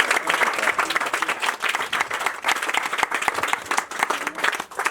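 Audience applause at a community charity event held at a centre in Abobo, dense and continuous hand clapping throughout, fairly close, with no clear talk over it.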